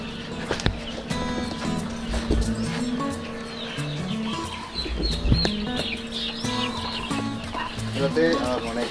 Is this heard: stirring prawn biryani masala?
no